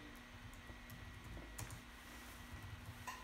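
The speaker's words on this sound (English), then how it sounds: "let's just type something" Typing on a laptop computer keyboard, quiet scattered keystrokes in short irregular bursts over low room hiss.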